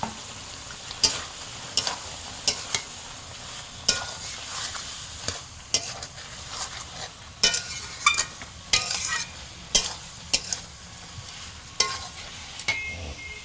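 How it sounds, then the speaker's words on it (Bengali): Cauliflower frying in a spiced paste in a pan, a continuous sizzle broken by repeated sharp scrapes and taps of a spatula stirring at a steady, uneven rhythm, close and clear. "কষাটা এইভাবে নেড়ে 2 মিনিট নেড়ে এবার ফুলকপিটা তুলে নিলাম"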